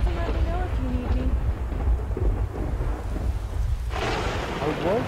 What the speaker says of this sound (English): it's raining. It's storming out here. You guys heard that?